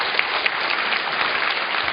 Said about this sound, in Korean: 여러분 박수로 한번 청해보도록 하겠습니다.